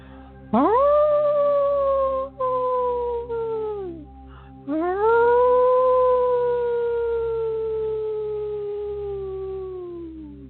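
Two long, rising-then-falling wolf howls in a guided meditation, the first breaking off after a couple of seconds and the second drawn out and slowly fading, loud and clear with no talk over them.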